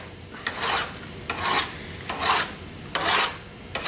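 An intaglio printing plate edge is filed and smoothed with the finer side of a file, five rhythmic rasping strokes, each a close, bright scrape separated by short pauses.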